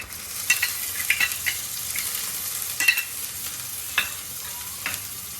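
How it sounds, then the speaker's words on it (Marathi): Crab masala with kokum sautéed in a pan: a close, crackling sizzle with scattered sharp clinks and scrapes of a spoon, lasting a few seconds and no voices. "कोकम आता चांगलं परतवून घ्यायचं"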